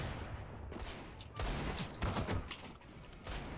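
Dense, rapid gunfire in the tactical shooter CS:GO, several loud overlapping bursts in a noisy, crowded mix with voices faintly underneath.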